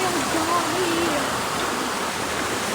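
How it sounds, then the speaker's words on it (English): An indoor waterfall at a large knife store in Sevierville, Tennessee, gives a loud, continuous rushing splash from close by, with a voice faintly audible beneath it. "But more impressive is this waterfall over here."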